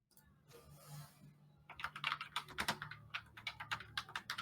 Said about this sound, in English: I love how I can hear the typing noises